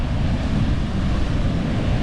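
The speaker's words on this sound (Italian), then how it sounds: "Guardate quanto è forte la corrente." Steady roar of ocean surf with a strong current at Byron Bay, loud and close, a continuous wash of water with wind buffeting the microphone and no voices.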